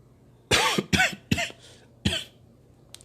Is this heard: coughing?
yes